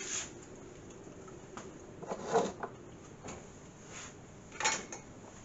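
A regular spoon scrapes and scoops into a cream cheese cranberry loaf in its pan, giving a few soft scraping clinks and dull knocks, close and fairly quiet.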